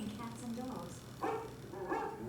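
An animatronic dog at Walt Disney's Carousel of Progress gives a few short yipping barks, moderately close, mixed in with speech from the show's soundtrack.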